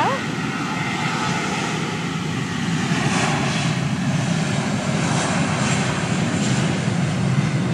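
An airplane taking off at an airport, heard from an overlook as a loud, sustained engine roar that builds and holds throughout, with people talking over it.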